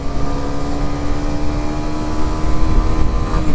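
A Kawasaki Ninja 125 motorcycle climbs uphill while shifting up through the gears without the clutch. Its engine gives a loud, steady, buzzing drone close to the listener, rising slightly toward the end.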